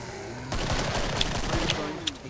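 Gunfire in the video game Killing Floor, a fast burst of rapid shots lasting under two seconds, close and loud, with a few sharper cracks near the end.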